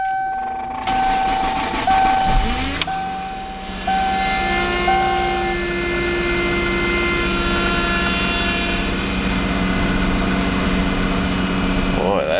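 A 2001 Mercury Cougar with 165,000 miles, left unstarted for a couple of days, cold-starts at -6 F. A brief cranking burst is followed by a steady, whining idle, close and continuous.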